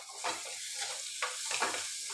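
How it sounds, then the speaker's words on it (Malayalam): Tomatoes tipped into a pan of sautéed onion, garlic and ginger for a sardine curry, giving a steady sizzle with several scraping stirs and clatters close by, no voices. "ഇനി തക്കാളി ഇട്ട് കൊടുക്കുക."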